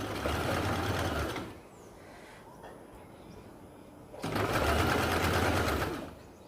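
Sewing machine stitching piping onto blouse fabric in two bursts of fast, steady whirring, separated by a quieter pause with faint handling sounds, close and fairly quiet.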